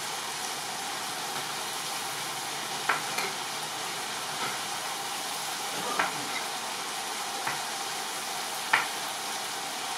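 Tomato masala for chicken tikka fries in a tawa in a home kitchen, a steady broad sizzle throughout with a few soft clicks of stirring, moderately quiet and close.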